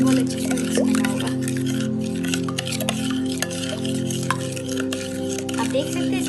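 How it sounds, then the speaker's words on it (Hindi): Boiled potato chaat with chaat masala is mixed in a pan, a soft sizzle under repeated scraping and light clinks of a spoon against metal, with a steady hum beneath. "थोड़ा सा चाट मसाला डालेंगे हम लोग, और इसे फिर अच्छे से मिक्स करेंगे"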